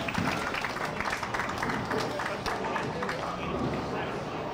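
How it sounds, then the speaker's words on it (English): At a bowling center, family and friends cheer and clap for a bowler, a steady busy crowd noise of applause and voices that runs throughout under a commentator's speech. "Good cheering section, as there always is whenever any of the Pohlmans are bowling on our show."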